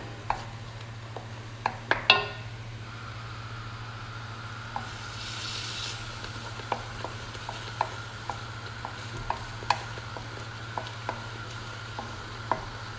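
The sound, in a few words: tomato and masala cooking in a pan for fish curry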